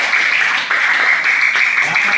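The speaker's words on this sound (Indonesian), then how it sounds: "Tepuk tangan semuanya." A classroom of students claps together after a maths lesson on adding numbers, a short, loud burst of brisk, uneven applause with a brief dip partway through.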